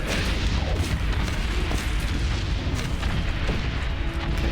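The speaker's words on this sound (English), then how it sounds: "I can hardly see what's going on right now, there's so many explosions" In the World War I video game Valiant Hearts, at Chemin des Dames, artillery shells burst in a loud, constant bombardment, deep booms and blasts piling on one another into a continuous roar with no pauses.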